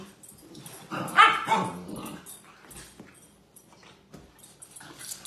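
A puppy gives a short burst of barks and growly yips, fairly faint and a little distant, then quieter snuffling and movement with occasional small sounds.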